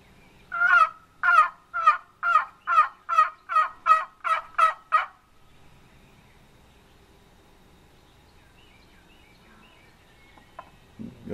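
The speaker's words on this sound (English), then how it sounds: "He gobbles to this gobbler. See, there he goes." A wild turkey gobbler sounds a loud series of about ten evenly spaced, rhythmic calls, then falls silent, leaving a faint outdoor background with a soft noise near the end.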